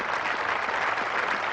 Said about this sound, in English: Sure to get generous applause.